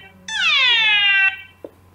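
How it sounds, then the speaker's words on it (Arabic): A loud electronic alarm clock tone sweeps downward for about a second, sounding like a meowing cat, followed by a brief short click. "صوت المنبه"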